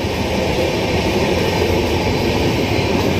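A crowded Indian passenger train rolls along, a steady loud rumble of wheels and carriage noise filling the whole stretch without pause.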